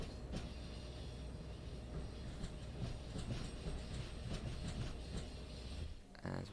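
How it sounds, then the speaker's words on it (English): Train wheel flanges squealing through a very sharp corner on the Northeast Corridor in Train Sim World 3. A steady rumble of rolling wagons sits under repeated high, faint squeals, and the sound continues for several seconds. "And around, very sharp corner, lots of flange sounds."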